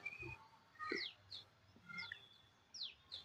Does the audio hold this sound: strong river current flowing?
no